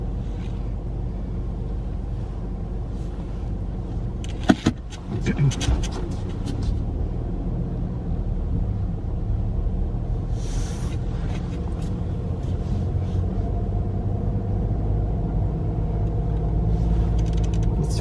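A car drives along a road on a freezing day, its engine and tire rumble steady and close throughout, with a brief knock and some faint rattles partway through.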